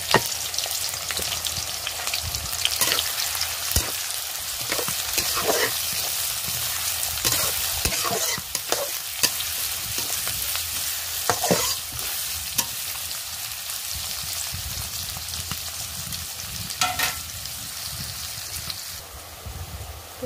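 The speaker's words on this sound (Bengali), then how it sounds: "হচ্ছে পেঁয়াজ কিছু দিয়ে দিলাম" Onions frying in a pan with a loud, continuous close sizzle and crackle, broken by occasional spatula scrapes and knocks.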